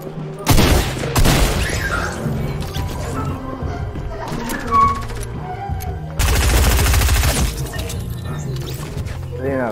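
Loud gunfire arrives in several sharp bursts of rapid shots with crashing impacts. It is set against a busy mix of music-like tones and background game sounds.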